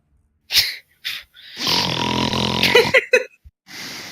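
A voice imitates snoring with a few short snorts and then a long rattling, throaty snore, followed by brief sputtering bursts, close and fairly loud against silence.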